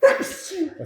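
A single sharp human sneeze bursts out close and loud, then trails off into a brief breathy tail.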